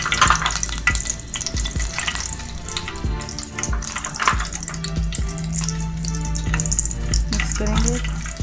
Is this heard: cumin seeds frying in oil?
yes